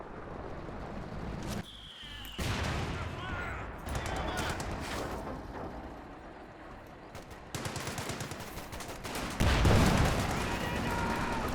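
Sherman tank HE shells and scattered small-arms fire in Company of Heroes 2, a series of booming blasts and crackling shots over a busy battlefield bed, the heaviest impact arriving near the end.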